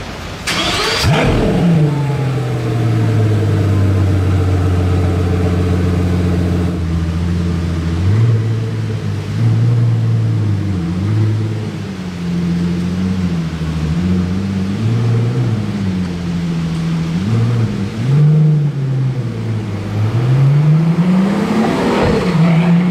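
A Pagani Utopia supercar with a titanium exhaust starts up loud and close, then revs and drives off, its engine note rising and dipping through several throttle blips over about twenty seconds.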